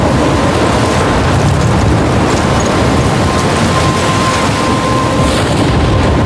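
Storm wind in Life is Strange, a loud, continuous rushing roar with a low rumbling undertone, steady throughout with no voices.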